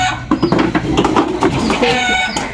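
A chicken clucks in short bursts amid loud, busy background noise.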